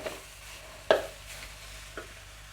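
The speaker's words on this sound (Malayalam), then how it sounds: "നന്നായി ഇങ്ങനെ ഇളക്കി ഇളക്കി ഒന്ന് കൊടുത്തൊന്ന് ഇതാക്കി എടുക്കുക" A spoon stirring tender jackfruit thoran in a pan, Kerala style, with one sharp scrape near the start and a softer one later over a faint background sizzle, no talking.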